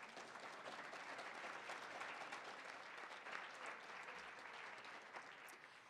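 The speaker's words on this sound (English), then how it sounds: "Please join me in a warm round of applause for all of them." An audience at a civic club gathering gives a warm round of applause, a dense, even roar of clapping that holds at a steady level throughout, heard from some distance.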